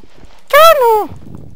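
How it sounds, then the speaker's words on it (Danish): A pig in a video game gives a single short grunting squeal, a loud tonal call that dips in pitch and lasts about half a second against quiet background. "Det er gris."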